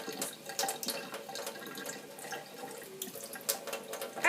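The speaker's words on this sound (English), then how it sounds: "Yep, the water just runs right off." Water running from a tap over hands at a sink, a steady splashing, trickling stream with scattered drips, close and fairly continuous.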